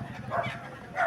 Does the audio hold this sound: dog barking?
yes